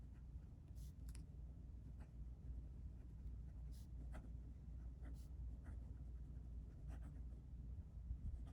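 A rose gold fountain pen with a smooth medium nib writing in Diamine Red Dragon ink, its soft scratchy strokes faint and close against a steady low background hum.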